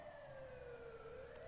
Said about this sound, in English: That was a siren.